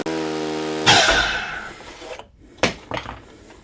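A power saw spins with a high whine, then bites into wood for a bevel cut, giving a loud, close, rasping burst that fades as the blade winds down, followed by a couple of sharp knocks of the workpiece.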